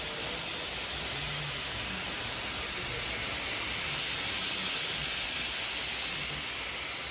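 Continuous steady hiss of spray adhesive being applied to an upholstery kick panel for a 1958 Pontiac Chieftain, loud and close without pause, no talking.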